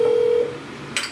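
A phone call rings out unanswered, a steady tone that stops partway, followed by a brief bright electronic beep, with no one speaking.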